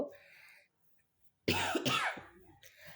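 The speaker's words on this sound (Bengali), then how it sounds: "আমার কাশি হচ্ছে" A woman with a bad cold coughs in the middle of cooking, giving a loud, close burst of two or three harsh coughs and a throat-clearing rasp after a quiet pause.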